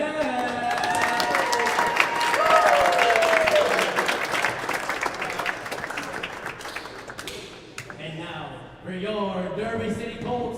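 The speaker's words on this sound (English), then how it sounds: "please give a round of applause to world number 37 from the United States of America, Timmy Slim Tim Brown" Audience applause greets a player introduction at a National Squash League match, Nashville Crushers versus Derby City Colts, a steady wash of clapping from the crowd, with an announcer's voice and music-like tones running through it before it thins near the end.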